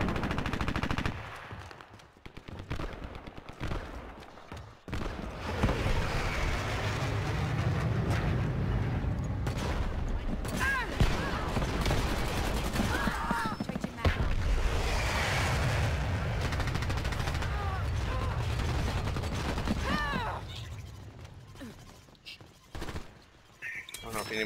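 Sustained automatic gunfire from the online shooter Dirty Bomb, loud and nearly continuous with dense bursts and a few pauses, while a player's voice talks over the action.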